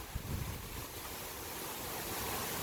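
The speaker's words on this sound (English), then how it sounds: "It's still very gusty out here." Gusty wind from Tropical Storm Debby roars steadily outdoors near trees and a garden, a dense continuous rush with heavy buffeting on the microphone.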